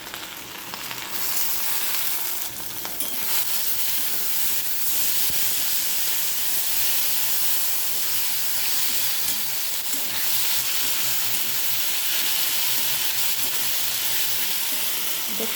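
Chopped tomatoes, ginger-garlic paste and ground green chilli fry in a pan for an alu potol rui fish curry, a steady hissing sizzle close by with occasional stirring clinks and no talking.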